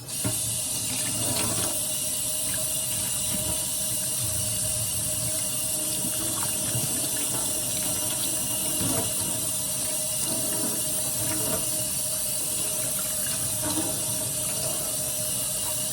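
Warm tap water runs steadily into a sink while a doll's hair is rinsed, a continuous close splashing stream with faint shifting spatters as the hair moves under the flow.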